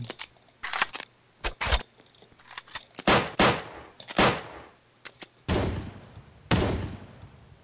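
Video game roleplay gunfire, a series of close, sharp shots in irregular bursts, some single and some rapid clusters, with brief silences between.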